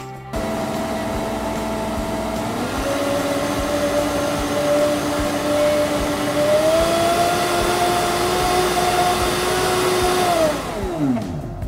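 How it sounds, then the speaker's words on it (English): A loud, steady motor whine of a Kuvings CB1000 commercial vacuum blender pumping air out of its container, its pitch rising in steps over several seconds before winding down at the end. "We want to remove the air in this container"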